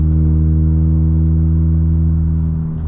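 Unitronic-tuned VW Golf GTI MK8 cruising around town in comfort mode, a steady low engine hum with strong even droning tones and a faint rattle, easing slightly at the end, no voices.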